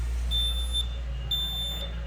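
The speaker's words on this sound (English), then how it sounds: "So now the bell starts to ring." An intercom-style bell triggered by an order printer gives two loud, high electronic rings, each about half a second, over a steady low room hum.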